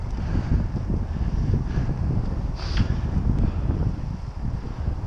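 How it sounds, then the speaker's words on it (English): Cold wind buffeting a cyclist on a country road, a steady, loud rumbling rush with gusty swells throughout and no speech. "cold wind"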